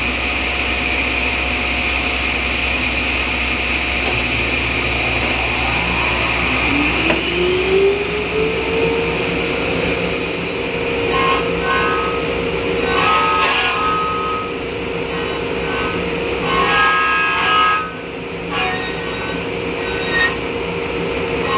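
A woodworking router cuts a cove profile into a wooden bar top rail in shallow passes. It gives a loud, sustained high-pitched whine whose tone sweeps upward as the bit comes up to speed, followed by a steady, rasping cutting noise.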